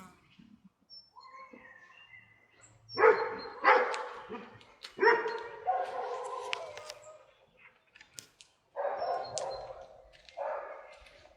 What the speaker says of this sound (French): il y a tous les chiens